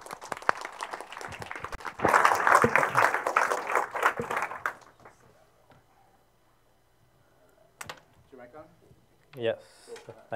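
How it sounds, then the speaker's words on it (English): Meetup audience applauding a guest speaker: a burst of clapping swells for a few seconds, then fades out, followed by someone speaking briefly over the quiet room. "Let's give him a warm round of applause."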